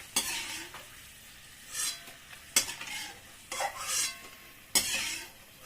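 Peanuts are stirred into crispy fried flattened rice in a pan, giving quiet, rhythmic bursts of scraping and rattling strokes over a soft background sizzle.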